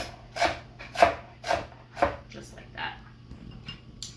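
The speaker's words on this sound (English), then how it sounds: "So I'm just gonna chop it up in little half moons." A knife chops a vegetable into half moons on a cutting board, several evenly spaced crisp thuds about half a second apart, close by and followed by softer taps.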